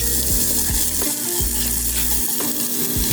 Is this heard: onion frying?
yes